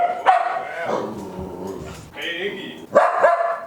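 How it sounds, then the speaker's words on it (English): A pet dog indoors gives a few sharp, close barks and yips between stretches of whimpering, while someone talks to it. "Why you barking?"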